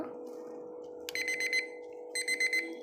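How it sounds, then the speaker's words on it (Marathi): A small alarm clock rings in two short bursts of rapid high electronic beeps over a quiet room hum, close and clear. "अँड आता मी ह्याचा अलार्म वाजून दाखवते"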